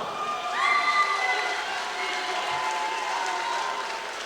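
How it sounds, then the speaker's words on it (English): Crowd applause and cheering fill a fight arena at a combat sports championship after a bout, a dense sustained wash of clapping with scattered shouts and a whistle-like tone early on, steady and loud throughout. "Ladies and gentlemen, round of applause for both fighters."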